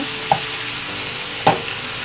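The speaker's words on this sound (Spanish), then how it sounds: "asegurando que se revuelve la carne con la cebolla y el ajo" Ground beef frying with onion and garlic in a pan for tacos, a steady soft sizzle with two brief scraping stirs of a utensil, close and moderately loud, no voices.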